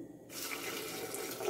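Water from a tap gushes suddenly into a blender jar holding chiles and garlic for red pozole sauce, a short close pouring splash that runs steadily after it starts.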